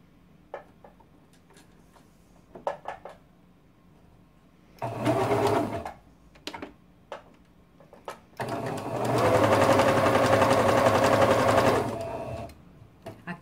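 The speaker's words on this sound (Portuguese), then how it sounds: "a gente vai fazer a costura bem aqui onde tem a dobrinha" Sewing machine stitching bias binding onto fabric for a pet bed: scattered ticks and clicks, then a short burst of stitching, more clicks, and a longer steady loud run that stops.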